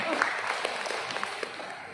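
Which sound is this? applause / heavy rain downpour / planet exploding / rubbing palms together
applause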